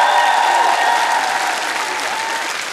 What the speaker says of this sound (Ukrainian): Эти аплодисменты вам.